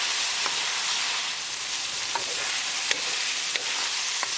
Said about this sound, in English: Now on high gas, cook for 5 minutes and keep it moving.